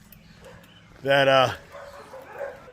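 Puppies yip and whimper in a loud, high burst lasting about half a second, with someone speaking briefly just before and quieter sounds after.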